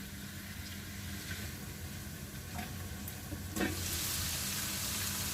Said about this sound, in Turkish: Bu hayla biraz daha şöyle ölgün güzelce hemen kavrulsun.